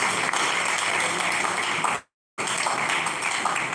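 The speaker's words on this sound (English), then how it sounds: "A round of applause." Audience applause at a Nigerian Institute of Town Planners Oyo State chapter gathering, a dense steady wash of clapping that cuts out abruptly for a moment midway, then resumes at full strength.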